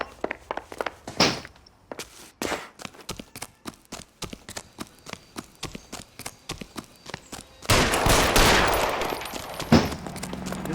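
Gunfire in a police shootout: a long run of sharp, separate shots at a steady rapid pace, some near and loud, ending in a louder burst of blasts and rumbling noise.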